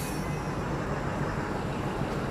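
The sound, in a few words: local passenger train at Indian railway station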